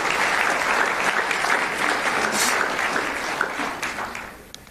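Audience applause at a school football award ceremony, a full round of clapping that stays strong for several seconds, then thins and fades toward the end.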